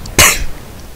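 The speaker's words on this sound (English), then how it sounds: "Coughing." A single sharp cough from one person, loud and close, with a short rough tail and no talk around it.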